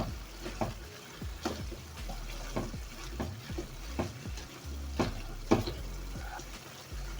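Minced meat with green beans being stirred in a frying pan, soft scraping strokes repeating every second or so over a quiet, steady sizzle.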